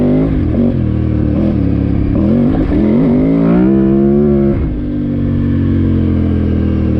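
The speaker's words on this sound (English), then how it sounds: "Bike's running good. It's KTM 990." A KTM 990 adventure motorcycle engine runs steadily and loud, its exhaust note rising as the rider revs it around the middle, then settling back to a firm idle-like drone.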